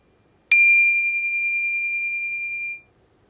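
A small bell is struck once, giving a bright, clear metallic ding that rings out alone and fades over about two seconds in a quiet room.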